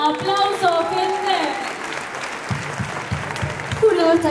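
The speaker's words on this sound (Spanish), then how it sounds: "¡Aplauso, gente!" Crowd at a Spanish-language rap battle tournament claps in a short burst after a verse ends, and an MC's voice talks over the clapping.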